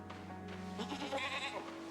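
A goat bleats once, a short wavering call over a quiet ambient background in the video game REKA.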